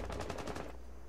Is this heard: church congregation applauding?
no